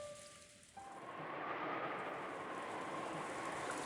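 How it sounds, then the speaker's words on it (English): Steady rain in the visual novel game Umineko no Naku Koro ni, a dense broadband hiss that swells after a brief tonal chime and then holds constant and fairly loud with no voices. "the meal ended up being so quiet that you couldn't ignore the sound of the rain sneaking into the dining hall."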